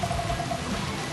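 Dense, steady hiss of rain falling on Guam during a scooter ride, continuous and fairly close, with no voices.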